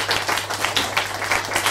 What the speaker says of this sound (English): please give sister a round of applause.